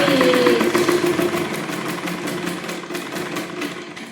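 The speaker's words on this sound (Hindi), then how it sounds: "जहाँ से भी सिलाई स्टार्ट करेंगे वहाँ पे पहले लॉन्ग स्टिच लगाएंगे" A sewing machine runs steadily close by, laying long stitches with a fast, even mechanical chatter that gradually fades toward the end.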